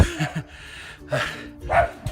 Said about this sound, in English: The neighbor's dogs aren't happy with me